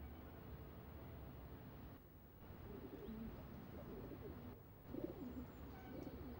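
Pigeons coo softly around Southampton's medieval Bar Gate, a few low rolling calls rising over steady outdoor street hum and distant traffic.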